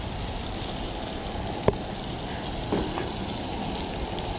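Hush puppies cooking in hot oil beside a riverbank catfish cookout, a steady soft sizzle and bubbling hiss with a couple of faint clicks, no voices.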